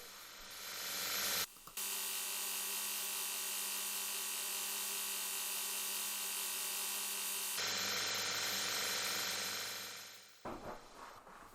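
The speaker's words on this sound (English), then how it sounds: "Here I'm putting the chamfer onto the edge of the hammerhead." A 180 mesh fibre wheel chamfering the edge of an old ball peen hammerhead, a steady loud whirring grind with a brief break near the start, then winding down at the end.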